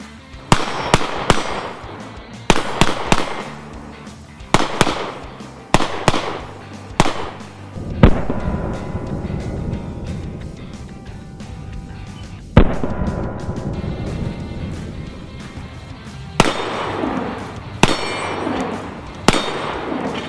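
A Rock Island Armory Tac Ultra 1911 pistol chambered in 22 TCM fires repeated sharp shots at a distant steel target, each crack followed by a faint metallic ring, spaced a couple of seconds apart outdoors.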